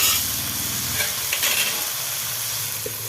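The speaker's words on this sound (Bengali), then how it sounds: "পালং শাক দিয়ে দিলাম, দিয়ে এবার ঢেকে রাখবো।" Spinach cooking in a pan for a village-style spinach ghonto, a steady broadband sizzle with light stirring scrapes close by, and no talking.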